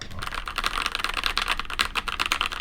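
Typing on a Keychron K2 mechanical keyboard with brown switches: a quick, steady run of close, crisp key clacks with no talking.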